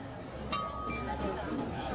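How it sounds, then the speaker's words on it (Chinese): Red wine glasses clink once in a toast, a single bright, close chime over soft background chatter. "干杯。"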